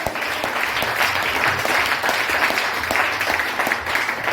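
A church congregation claps to acclaim the Lord, a dense, steady wash of applause filling the room at close range for the whole stretch.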